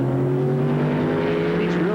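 IMSA GTO race cars run on the track at Portland, their engines droning loudly in a sustained, layered roar with a note that climbs near the end, under faint commentary.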